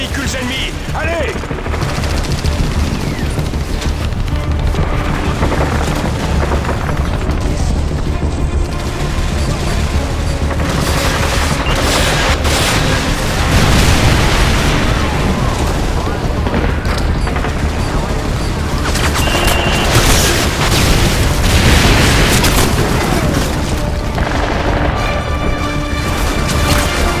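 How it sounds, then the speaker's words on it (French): Call of Duty MW2 combat near the Washington Monument, with dense, continuous gunfire and heavy explosions as enemy vehicles are destroyed, loud and relentless with voices shouting in French beneath the battle. "Ramirez, sers-toi de ces armes pour détruire les véhicules ennemis"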